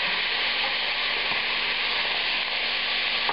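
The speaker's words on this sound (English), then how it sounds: "The second batch is cooking away in the pan." Beef steaks sear in olive oil in a Teflon pan, giving a steady, loud, continuous sizzle and fry with no speech over it.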